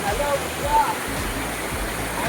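Prabalgad waterfall rushes in a steady, dense roar of falling water, close and continuous throughout with no pauses.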